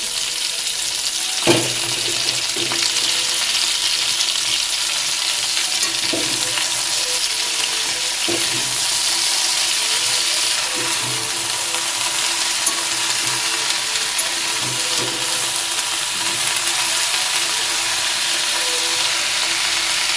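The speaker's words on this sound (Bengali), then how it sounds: "বাঁধাকপিটা দিয়ে দিচ্ছি" Shredded cabbage fries with browned mixed vegetables in a pan, giving a continuous close sizzle broken by a few sharp clanks and scrapes of a stirring spatula.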